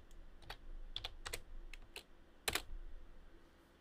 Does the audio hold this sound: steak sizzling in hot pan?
no